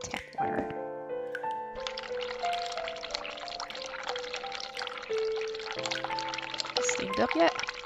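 Hot tap water runs and pours in The Cat Lady video game, a steady splashing stream up close with game music tones underneath.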